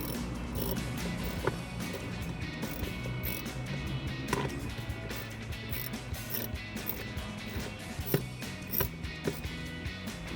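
A socket wrench ratchets at bolts holding the center console of a 2005-2009 Ford Mustang, a busy mechanical clicking and rattling with scattered sharper ticks, close and steady with no talking.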